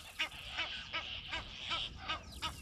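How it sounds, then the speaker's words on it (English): Agitated common mynas calling angrily at a wildlife waterhole, a series of sharp, harsh repeated calls in rapid bursts, fairly close and loud, with no one talking. "You can just hear how angry some of those birds are now"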